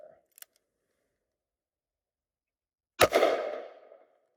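A single sharp .45 Colt revolver gunshot fired outdoors in snow during a chronograph velocity test, loud and close with a short ringing decay, preceded by a faint click in otherwise near silence.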